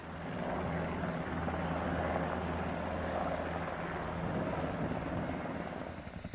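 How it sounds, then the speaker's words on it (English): A US military helicopter drones steadily overhead, its low rotor throb and engine hum holding loud and constant throughout. "In most cases, the U.S. military performs insertion and extraction operations using the helicopter rope suspension technique, Hurst."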